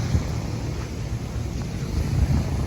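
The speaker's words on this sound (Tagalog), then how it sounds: "Lakas ng agos." Strong floodwater current rushing down from the mountains during a typhoon in the Philippines, a steady loud roaring wash with wind buffeting the microphone throughout, no voices.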